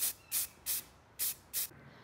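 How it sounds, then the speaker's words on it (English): An aerosol spray paint can lets out five short, evenly spaced hissing bursts, each about a fifth of a second long, heard close and alone with quiet gaps between. "This increase in gas volume propels the liquid paint out of the can and onto the surface you are spray"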